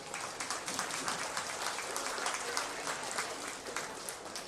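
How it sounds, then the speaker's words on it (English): Steady crowd applause fills a livestock show ring at a county buckwheat festival, a continuous dense patter of clapping with no pauses, moderately loud throughout. "Let's go ahead and give them all a big round of applause."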